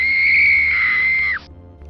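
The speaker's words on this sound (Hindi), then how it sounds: "अपने बिस्तर पर जाते ही पारुल ज़ोर से चीखी।" A woman's scream sound effect in a Hindi ghost story, a piercing, sustained high-pitched shriek lasting over a second that cuts off abruptly into near silence.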